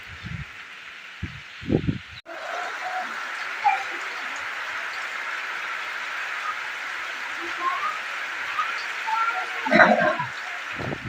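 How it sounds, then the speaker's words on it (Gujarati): Wind rushes steadily in a broad, hissing roar, with a few brief voices at the start and near the end. "જો પવનનો અવાજ કેવો આવે છે"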